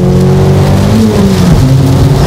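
A car engine revs steadily and loud after shifting into third gear during a driving academy session on a slippery track, a continuous droning tone rising and settling with no talk.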